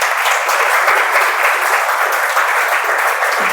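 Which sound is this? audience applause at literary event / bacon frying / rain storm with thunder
audience applause at literary event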